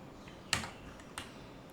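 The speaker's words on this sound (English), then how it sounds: "You need to just hit the alt button on your keyboard and hit the enter." Two quiet, sharp key presses on a computer keyboard, Alt then Enter, spaced about half a second apart with near-silence around them.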